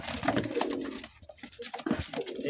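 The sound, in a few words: pigeon cooing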